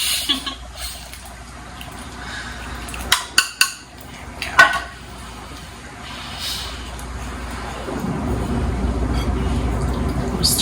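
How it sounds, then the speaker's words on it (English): Milk is poured into flour in a pot and whisked, with a cluster of sharp metal clinks against the pan followed by a steadier scraping, swishing stir, close and fairly loud. "We'll pour in our milk. It's probably going to get a little gummy. We may need to go to a spoon instead of a whisk"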